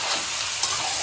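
Chicken pieces sizzle steadily in hot oil over browned, fried onions, a dense continuous frying hiss close up with a faint stir partway through.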